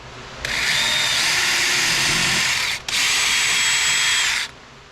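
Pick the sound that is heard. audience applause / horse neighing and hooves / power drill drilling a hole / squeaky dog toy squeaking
power drill drilling a hole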